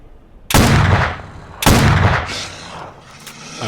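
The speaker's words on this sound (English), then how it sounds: "also hate it when shotguns that are supposed to be pretty fast are slow." Two loud, close shotgun blasts in STALKER: Shadow of Chernobyl fire about a second apart, each a sharp broadband crack with a booming tail that rings out before the next shot.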